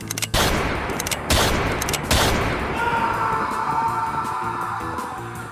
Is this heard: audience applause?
no